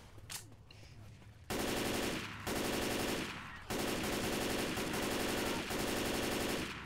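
Machine gun fire in the zombie shooter Left 4 Dead 2, loud sustained automatic bursts separated by brief pauses, with a voice faintly heard beforehand.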